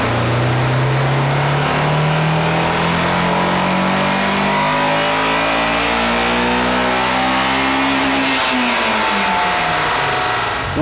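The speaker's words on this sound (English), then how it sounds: "First up, we ran the stock S2000s to set a baseline figure." A stock Honda S2000 strapped to a DynoJet chassis dyno, its engine climbing in one long loud wide-open rev with rising pitch, then letting off and falling back near the end.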